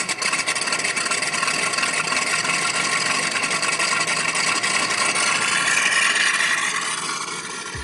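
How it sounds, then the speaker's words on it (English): Giant scale RC Skyraider model plane engine throttling up, a steady loud mechanical drone that builds slightly in pitch and intensity toward the end before easing off, heard alone without talk. "Slowly advancing the throttle while insufficiently working the rudder, the Skyraider was alive and airborne again."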